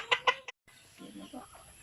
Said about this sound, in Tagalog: Sa among mga buhi nga manok.